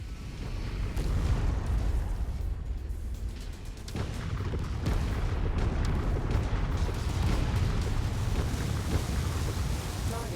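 Missiles launch and burst in MechWarrior 5 combat, a dense, continuous barrage of heavy booms and deep rumbling blasts that stays loud and close for the whole stretch, with sharper cracks scattered through it.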